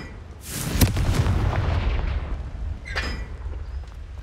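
In a video game, a Confringo blasting spell sets off a booming explosion that erupts suddenly and rumbles on, followed a couple of seconds later by a second, sharper burst, with no talking over it.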